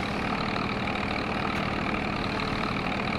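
An MF industrial utility tractor engine in Farming Simulator 22 runs steadily, a continuous dense mid-pitched drone with no talk, holding constant throughout.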